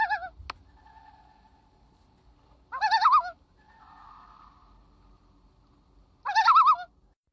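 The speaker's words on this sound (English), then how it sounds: "So that was the common loon" A common loon calls twice in near-alone bursts, each a loud wavering tremolo lasting under a second, with a faint sustained wail between them and a sharp click near the start.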